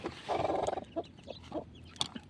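A mother hen that has just hatched a clutch of Undertaker-line chicks clucks in a few short, separate bursts close by, with softer peeping and farmyard rustle between them.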